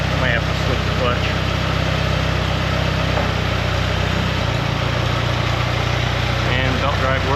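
A 1959 Allis Chalmers D17 tractor runs its engine with the belt pulley engaged, a loud, steady low rumble that shifts pitch slightly partway through, with a voice speaking over it.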